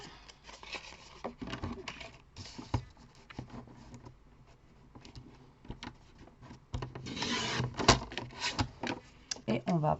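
Red card stock being cut for a Christmas mini album, with scraping, rubbing paper sounds and small handling knocks, close by, under steady talk.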